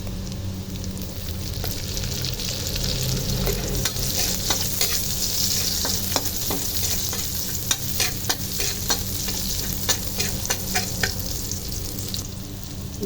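Onions fry in a pan for yumein noodles with a continuous close sizzle. Frequent small crackles and stirring scrapes sound throughout, and no one speaks.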